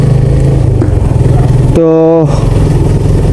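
Motorcycle engine hums steadily while riding, with wind rush and a brief higher tonal whine midway, someone speaking briefly over it.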